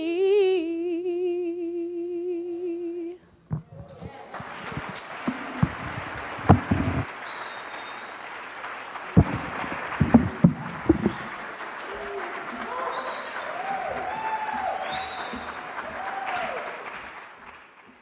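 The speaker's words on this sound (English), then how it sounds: "Let's give a round of applause as they come" A sustained choir chord gives way to an audience's warm applause for the Freedom Choir from Winston-Salem, clapping swelling and continuing for many seconds, with scattered whoops and a few voices.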